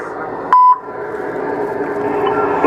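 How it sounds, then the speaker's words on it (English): A voicemail recording tone: a single short, clear beep that follows a brief pause and then gives way to a low, steady hiss on the phone line. "At the tone, please record your message."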